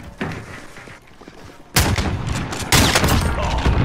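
Uzi gunfire in a first-person shooter video game, loud bursts of rapid shots that break out suddenly, pause, then hit again harder near the end, with faint voices in the background.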